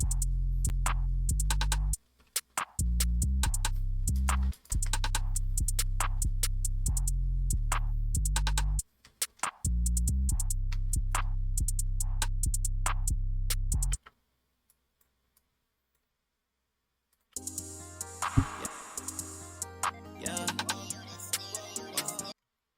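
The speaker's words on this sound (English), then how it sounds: "So together the drums sound like this." The full drum pattern of a hip hop beat plays: rapid ticking hi-hats and snappy hits over booming 808 bass for about fourteen seconds, then a pause of near silence before a denser, busier mix comes in.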